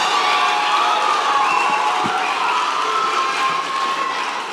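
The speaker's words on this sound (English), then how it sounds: "I need you all graduates to stand and give everyone in this room a round of applause for helping you get to the moment where you are right now." Graduates and guests at a summer graduation ceremony give a round of applause, with a steady wash of clapping and some cheering from a large indoor crowd that holds for several seconds.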